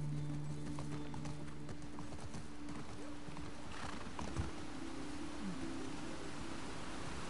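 Horse hooves clip-clopping in the video game The Last of Us Part 2, a steady walking rhythm of moderate loudness over a constant noise bed, with a brief whinny-like call partway through.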